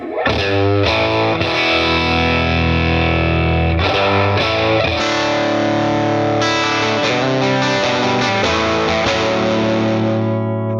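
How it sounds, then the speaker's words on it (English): Electric guitar played through a Boss Katana with an amp sim set to a tweed amp and GB25 Greenback speaker, loud driven tone with sustained chords and picked notes ringing out, slightly distorted, alone without talk. "Now we're going to switch down to a GB25 greenback in a tweed amp."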